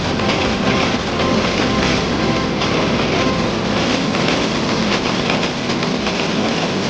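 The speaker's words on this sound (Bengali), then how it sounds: "তো এখন ট্রেনটা গেল, ভালো লাগলো।" A train passes close by, producing a continuous loud rumbling clatter of wheels and carriages that holds steady throughout, with no voices.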